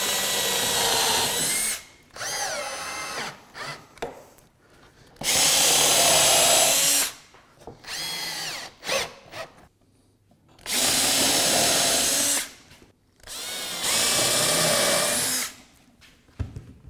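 A power drill drives screws into the wooden bottom piece of a slab coffee table carriage, in four loud, close bursts of whirring a few seconds each, separated by quiet gaps with small handling knocks.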